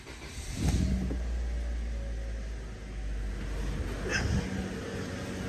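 A car engine cranks and catches, then settles into a steady, close idle. A low rumble continues under broadband noise throughout, with a brief rise near the end. The car is in for an air-conditioning refrigerant recharge after an aftermarket condenser was fitted.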